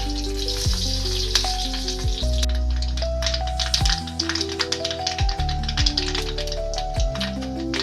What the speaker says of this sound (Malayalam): അപ്പോൾ കടുക് പൊട്ടി വന്നിട്ടുണ്ട്.